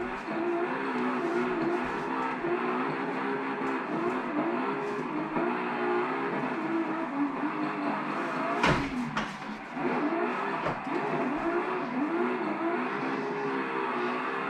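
A Nissan S15 drifting at Long Beach in the Assetto Corsa racing game, its engine droning and revving hard through the gears with a brief tire-squeal burst midway, loud and continuous.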